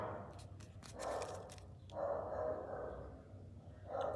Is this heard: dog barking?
yes